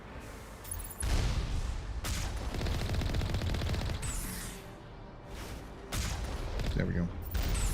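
Rapid gunfire from the Mass Effect video game on an Insanity difficulty run, loud bursts of shots repeating through the clip with someone talking over it.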